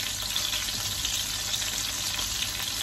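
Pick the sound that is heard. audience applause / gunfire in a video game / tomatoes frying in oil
tomatoes frying in oil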